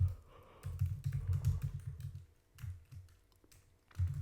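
Keys clatter on a computer keyboard in quick bursts of close, soft clicks, a pause between runs before typing resumes.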